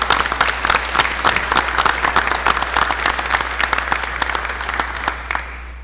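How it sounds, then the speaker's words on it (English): Sustained audience applause fills a town hall meeting, with steady dense clapping that fades out near the end and no talk. "I'd like to give her a round of applause."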